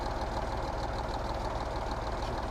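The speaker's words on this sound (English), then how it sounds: "Amazing engine sound." A souped-up 600-horsepower truck engine in a farming video game mod, running at a steady loud idle with a deep rumbling low end and a constant mid-range drone throughout, no talking.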